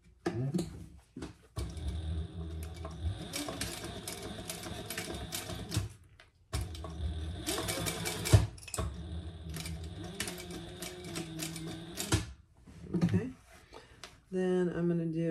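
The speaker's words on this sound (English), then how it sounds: "I'm gonna do two rows of stitching" A sewing machine stitches two rows along a sling bag, its busy mechanical whirring running in long bursts with brief pauses between seams.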